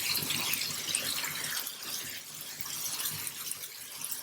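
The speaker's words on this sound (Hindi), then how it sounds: "मैं इसमें थोड़ा सा शामिल कर रही हूँ पानी ताकि मसाला लगे ना।" Water is poured into a pot of beef nihari masala, a steady close hissing sizzle and splash lasting a few seconds with no talking.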